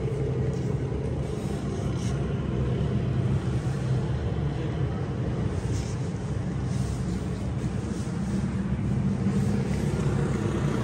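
A Honda CG 125 SE Special Edition 2023 motorcycle engine runs steadily, a loud, continuous close-up rumble that holds an even level throughout with no breaks.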